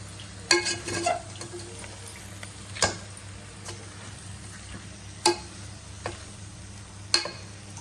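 A spoon stirs snake gourd curry in a pan with scattered scrapes and sharp taps against the metal over a faint, soft sizzle. No one speaks.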